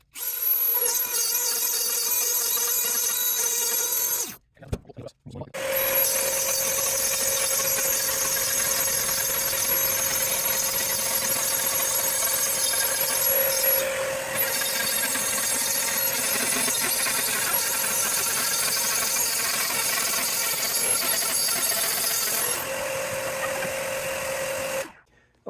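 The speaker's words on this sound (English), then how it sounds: "you know how a router bit cuts on one side as it's spinning" A router cuts a channel for carbon fiber rods in a Warwick 5-string bass neck, a loud steady high whine close by that stops briefly near the start, then runs on evenly for about twenty seconds.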